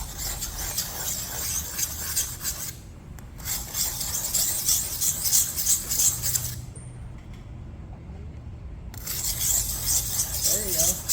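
Knife being sharpened, a close, steady series of rasping scrapes in repeated strokes, pausing twice, with faint talk in the background.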